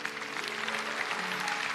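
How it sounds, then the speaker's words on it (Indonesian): Church congregation applauding during a sermon, a steady dense wash of clapping that holds level for the whole moment, with faint sustained tones beneath it. "Kasih tepuk tangan untuk Tuhan."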